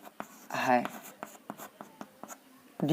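Chalk or marker writing on a board during a maths lesson, with short scratchy strokes and taps in quick bursts, close up, between brief spoken words from a teacher.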